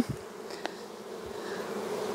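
An opened honeybee colony hive buzzes with a steady close drone of many bees, a continuous hum with a faint whining tone, with no talk.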